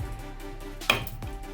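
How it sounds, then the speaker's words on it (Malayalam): A single sharp snip is heard as cutters clip a MOSFET leg on an inverter driver card, a brief crisp click over a quiet room background. "മോസ്പെറ്റിൻ്റെ ലെഗ് കുറച്ച് കട്ട് ചെയ്യാനുണ്ട് ഇത് കട്ട് ചെയ്യാം"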